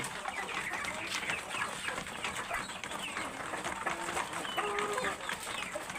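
A flock of chickens pecking homemade feed and clucking softly, with a steady busy rustle of feeding and scattered bird calls throughout.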